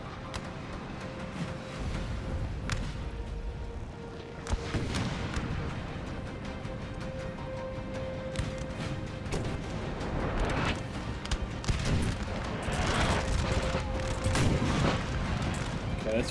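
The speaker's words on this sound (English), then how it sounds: "I think we've got an artillery unit trying to scare off the skirmishers." Artillery fires during a Napoleonic-era battle in Napoleon Total War, with sharp cracks and booms scattered over steady battlefield din, musket volleys and a sustained tone, growing denser toward the end.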